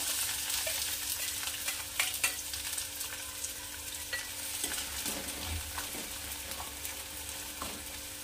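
Finely chopped onion frying in a pan over medium heat for a Punjabi rajma masala, a steady sizzle broken by scraping stirs of a spoon, with a few louder clinks near the middle.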